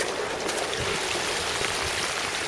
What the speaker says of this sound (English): it's been hammering down with rain